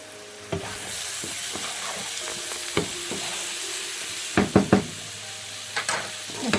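Spice masala with curry and coriander powder frying in a pan for a chicken meatball curry, a steady sizzle under several sharp knocks and scrapes of a spoon against the pan, clustered near the end.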